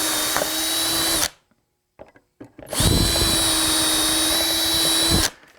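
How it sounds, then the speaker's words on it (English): A 6-inch aircraft drill bores through wood guided by a jig with hardened bushings, a loud whining run that stops abruptly, a brief pause with small knocks, then a second long steady whir. "this little jig comes with a 6-inch aircraft drill"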